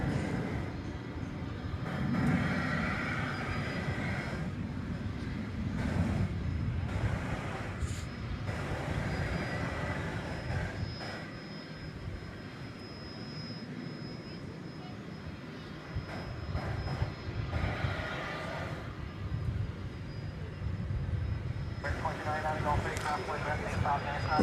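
An airliner departs DFW airport on a humid night bound for Los Angeles, a steady distant engine roar rising and falling while someone talks over it.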